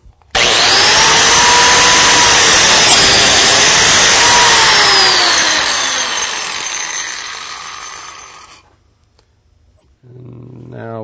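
A biscuit joiner spins up and cuts a slot into a wood workpiece, a loud, close, steady whine lasting about eight seconds that winds down to quiet. A brief low rumble follows.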